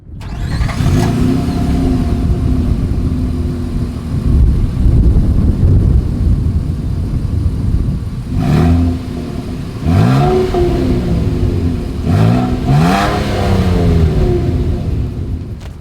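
A 2023 Nissan Frontier SV pickup truck idles loudly through its single exhaust, then revs up sharply several times in quick succession. Each rev climbs and falls away again, and there is no talking.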